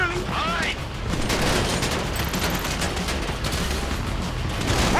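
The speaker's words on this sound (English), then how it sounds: "You hear that gunfire?" Dense rapid gunfire in the game Grand Theft Auto V crackles continuously, bursts overlapping with distant booms, loud and unbroken for the whole stretch.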